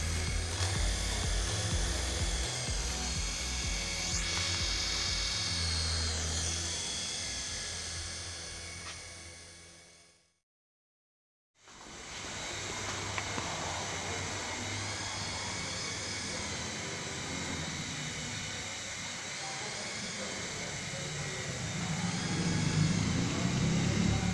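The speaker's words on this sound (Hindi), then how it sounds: "ये हेलीकॉप्टर जो है कितनी स्मूथली और बैलेंसिंग फ्लाइंग कर रहा है" An infrared induction toy helicopter in flight, its small rotor and motor giving a continuous high whine and whir that cuts out briefly midway, then resumes at a steady, moderate level.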